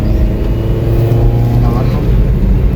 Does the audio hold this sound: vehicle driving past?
yes